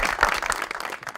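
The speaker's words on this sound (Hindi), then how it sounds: "बहुत सारी तालियां।" Studio audience claps for a guest on a Pakistani talk show after a recited verse, a brief burst of hands clapping, fairly close and uneven, fading slightly toward the end.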